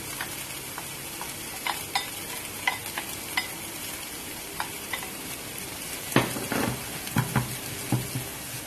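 Scotch bonnet and sweet peppers go into a pan of garlic and onion and fry with a soft, steady sizzle. A spoon scrapes and stirs now and then, with louder clanks near the end.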